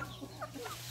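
Chickens of mixed breeds, native birds and Rhode Island Reds, give a few short soft clucks close by over a low steady hum.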